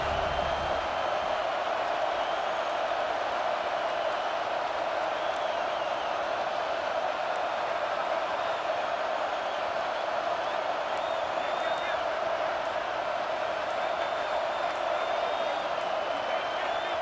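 A dense, roaring crowd fills the space continuously, a loud stadium wash of cheering and noise that holds steady without letup, in the video game EA Sports College Football 26 on third down.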